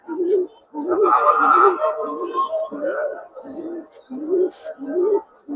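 Domestic pigeons in a loft, including a female of an old breed, coo in repeated low, throaty phrases that rise and fall close by, with short pauses between bursts.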